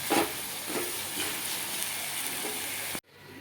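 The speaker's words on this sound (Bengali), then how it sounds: "এবার আমি বাঁধাকপিটার জন্য মশলাটা কষিয়ে নিচ্ছি" A thick spice paste for cabbage sizzles and hisses in a pan, loud and continuous with soft stirring scrapes, then cuts off abruptly near the end.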